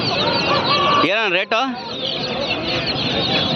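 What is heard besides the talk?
chickens clucking at a poultry market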